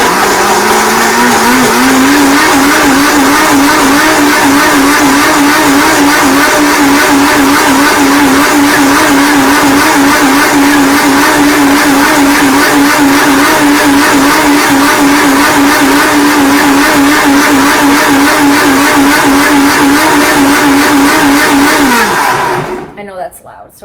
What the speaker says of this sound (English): So I'm just blitzing the heck out of it.